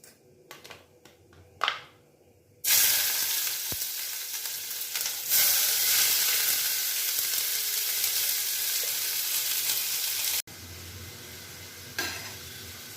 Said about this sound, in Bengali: এবারে পেঁয়াজটা হালকা করে একটু ফ্রাই করে নিতে হবে।